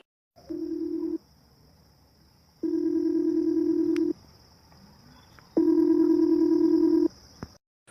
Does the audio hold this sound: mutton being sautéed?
no